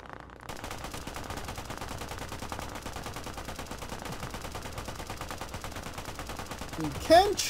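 Rapid, sustained gunfire in the Operation: Harsh Doorstop video game, with steady machine-gun bursts rattling continuously at moderate distance, then a sharper blast near the end.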